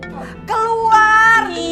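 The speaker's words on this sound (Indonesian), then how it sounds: "Ya, tuh HP-nya bunyi tuh." A mobile phone rings with a bright melodic ringtone, sustained tones rising and holding over a soft background, fairly close and loud, with no talk over it.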